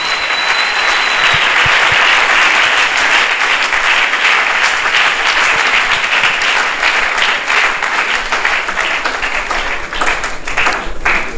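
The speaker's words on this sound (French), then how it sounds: "Applaudissez pour vous-même parce que vous êtes maintenant outillés." A conference audience at a university debate bursts into loud, sustained applause, a dense continuous roar of clapping that holds steady for over ten seconds.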